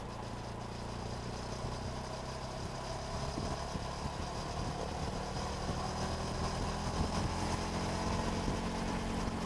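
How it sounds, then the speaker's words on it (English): A motorcycle engine idles steadily, a low rumbling exhaust drone with faint irregular pulses, continuous and fairly distant or muffled, with no talking. "I will have to dim the exhaust volume down a lot in the post."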